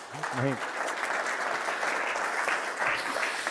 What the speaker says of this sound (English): Chris, round of applause for Chris.